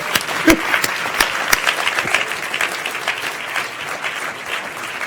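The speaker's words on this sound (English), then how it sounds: "Clap them and chill them on the way." An audience applauds at the FameLab International Final 2015, Cheltenham Science Festival: dense, crackling clapping from a crowd, loudest with a few sharp claps at the start and then settling into a steady patter.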